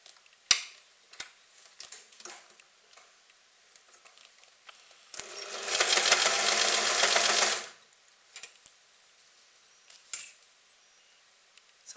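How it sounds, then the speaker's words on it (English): A sewing machine stitches around a cloth pad with a plastic layer, a steady whirring run of a couple of seconds set between quiet clicks and handling taps, close and alone without talk. "this then needs to be sewn around using backstitch by hand or on a sewing machine."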